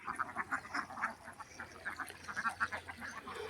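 A flock of ducks swimming in a pond in summer heat quacks continuously in quick, overlapping bursts. The calls are faint and distant, with no talk over them.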